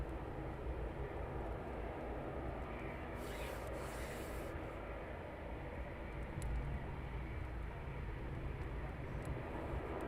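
A Eurofighter Typhoon sits on the ground at RAF Coningsby readying for departure, its engine giving off a steady, moderately loud roar that holds evenly throughout.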